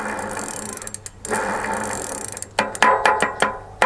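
A ratcheting socket wrench clicks in quick bursts while tightening a GT mountain bike crank, close and clear with short pauses between runs of rapid ratchet clicks.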